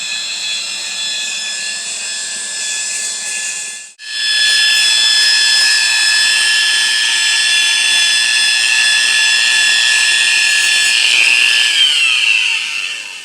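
Steady high-pitched whine of a lapidary grit wheel grinding purple petrified wood, loud and continuous, with a brief dip in pitch and level around four seconds before resuming.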